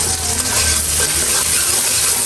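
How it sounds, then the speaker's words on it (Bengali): Onions fry in a hot pan with a steady, loud, dense sizzle and faint stirring, with no voices. "এখন পেঁয়াজ দিয়ে দিচ্ছে, আর এখানে ফ্রাই হয়ে গেছে।"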